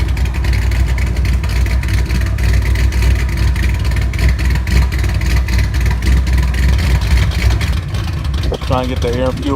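A Ford Mustang GT running on E85 fuel roars continuously on dyno rollers, a loud, steady engine drone throughout with a brief voice cutting in near the end.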